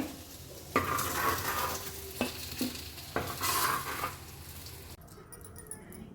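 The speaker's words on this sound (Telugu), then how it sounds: "కాయలు వేగినాయి సవాకు వేసుకొని కాయలు ఒక ప్లేట్లో తీసుకుంటున్నాను" Green chillies fry in a pan while a spatula stirs and scrapes through them, giving a soft steady sizzle broken by a few sharp clanks, and a quieter rustle at the end.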